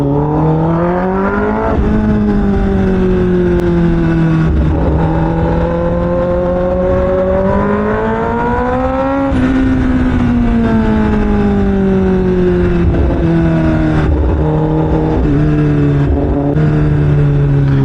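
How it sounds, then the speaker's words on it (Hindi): A Kawasaki ZX-10R motorcycle engine drones steadily up close while riding, its pitch rising and falling as the revs shift, running continuously without a break. "कि बाइक की आवाज़ भी अच्छी आ रही होगी।"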